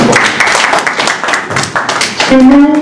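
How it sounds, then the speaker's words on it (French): Applause from a press-conference audience in Paris, a dense patter of clapping hands that runs steadily throughout, with a voice and a tonal sound rising near the end. "Est-ce qu'on peut applaudir,"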